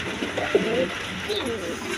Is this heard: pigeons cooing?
yes